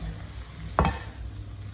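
Egg sauce with basil frying in a pan, a soft steady sizzle with one quick scraping stir of the spoon partway through, close and fairly quiet.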